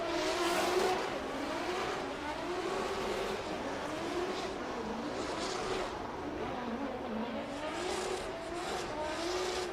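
A drift car at an international drift championship in Oman revs hard with its engine wailing and rising over continuous tire noise, a sustained roar at a moderate distance.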